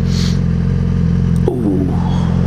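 Motorbikes pass on a street near a general store: a constant loud engine drone with a sharp clatter midway, then a rising roar as another bike goes by.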